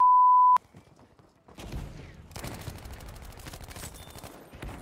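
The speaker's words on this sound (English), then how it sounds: "That's the shotgun, dude." Gunfire from a shotgun in the Battlefield V Outpost mode: a sine beep first, then a dense run of loud, sharp shots and clattering battle noise that fills the rest of the clip.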